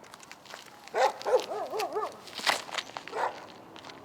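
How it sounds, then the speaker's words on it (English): Several dogs bark and yap in short bursts at a disc golf tournament round, a cluster of yelping calls followed by a few scattered louder barks, moderately near amid outdoor ambience. "More dogs razzing Barela."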